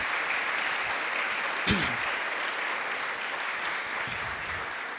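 A church congregation applauding, a steady wash of clapping that continues throughout, with a brief voice or sound cutting in near the middle and faint speech underneath.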